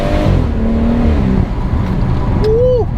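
A BMW M140 revved to about 5000 rpm through its aftermarket exhaust, a loud, close engine roar that rises and holds, ending with a short whine as the revs fall.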